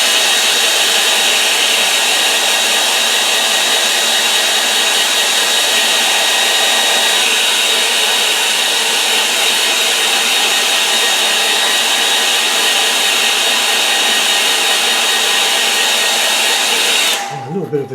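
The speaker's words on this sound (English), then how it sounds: "I'm going to dry that because I've hit it with the shadow." Hair dryer blowing steadily on a watercolour painting, a loud continuous whooshing hum that runs unbroken for most of the stretch before switching off abruptly near the end.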